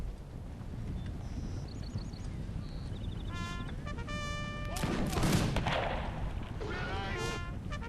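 Rifle volleys crackle in a Rorke's Drift battle game, scattered distant shots and bursts popping over a constant noisy backdrop, with game tones and beeps mixed in and someone talking over it.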